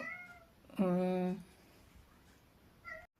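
A cat meowing to be let out of a room: one loud, drawn-out meow close by, with softer short mews at the start and end.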